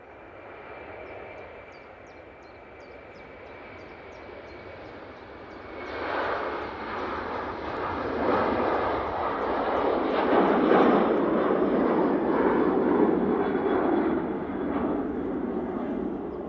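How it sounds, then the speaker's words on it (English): An Aer Lingus airliner on its takeoff roll at Manchester Airport, bound for Bridgetown; jet engine roar builds from a distant whine to a loud, broad rumble that holds steady. "Aer Lingus on the roll"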